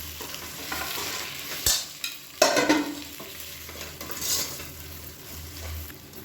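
Handfuls of mint and coriander leaves sautéing in a pan for chicken biryani, a low steady sizzle broken by a couple of sharp metal spoon clinks and louder stirring scrapes near the middle.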